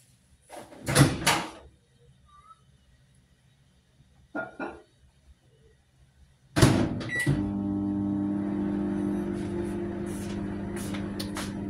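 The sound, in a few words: microwave oven running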